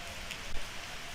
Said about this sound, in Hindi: और जब वापस आश्रम लौटने लगे तो बारिश होने लगी।